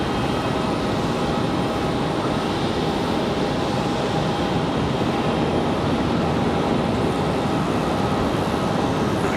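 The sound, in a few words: airplane arriving from Los Angeles at Raleigh Durham airport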